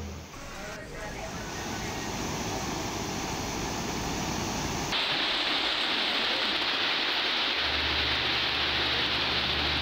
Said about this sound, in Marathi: गेल्या 9 दिवसांपासून लातूरमध्ये मुसळधार पाऊस सुरू आहे